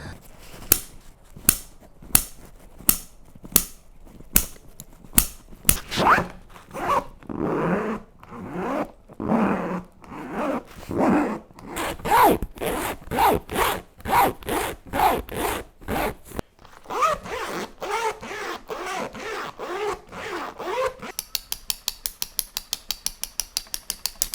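Metal zippers on an LTT backpack are pulled repeatedly, making sharp ratcheting zips, some in quick single strokes and some in longer rasping runs, close and clear with no talking.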